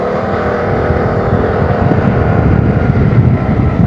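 A Vespa scooter accelerates away late at night, its small engine buzzing steadily and building, with wind roar on the microphone and no talking.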